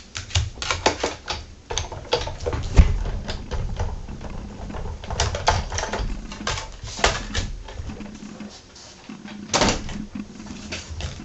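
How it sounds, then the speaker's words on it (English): A Big Shot die-cutting machine cranks a card through an embossing folder, giving a run of close, irregular mechanical clacks and knocks with brief pauses throughout. "we're going to run that through our big shot"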